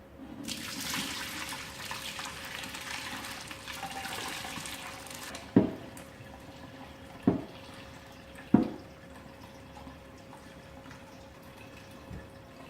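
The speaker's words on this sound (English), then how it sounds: "Slowly and carefully pour the curds and whey into the butter muslin." Ricotta curds and whey pouring into butter muslin in a steady soft stream for several seconds, then stopping, followed by a few faint dull knocks.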